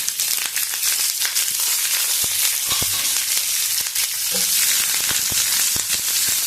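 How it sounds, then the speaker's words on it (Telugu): Mustard seeds, dried chillies and onions sizzle and crackle in hot oil in a pan, a dense steady frying hiss broken by sharp spattering pops, close and alone without talk. "దీనిలో ఆవాలు, ఎండుమిర్చి అన్నీ బాగా చిట్టుపట్లాడుతున్నాయి."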